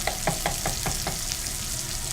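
Pork filet sears and caramelizes in a hot pan, a steady close sizzle with a few quick spattering pops near the start that then settles into an even hiss.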